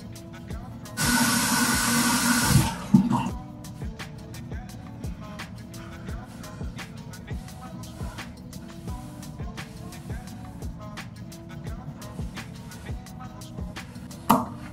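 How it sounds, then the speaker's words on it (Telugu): Tap water runs in a strong hissing burst for about two seconds while cleanser is rinsed off a face, followed by quieter splashing, dripping and small handling clicks close by. "రబ్ చేసుకున్నాక తర్వాత వాటర్తో క్లీన్ చేసుకుంటాను"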